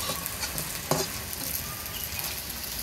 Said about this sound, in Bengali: এই বড়া ভাজতে একদম সময় লাগে না, অল্প সময়ে হয়ে যায় ভাজা।